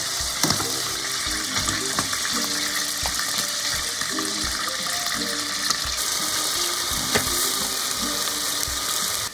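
Chunks of beef stew meat sear loudly in a pan, a dense continuous sizzle with spatters, and scraping and clattering of a utensil or pieces of meat being moved come through at intervals.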